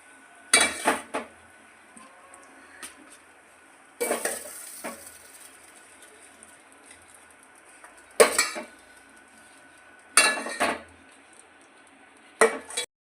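Chilli gobi is served from a pan, a few sharp clusters of metal spoon scraping and clinking against cookware and dishes, separated by quiet pauses with a faint background hum.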